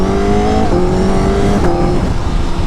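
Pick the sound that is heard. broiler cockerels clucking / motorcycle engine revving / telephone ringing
motorcycle engine revving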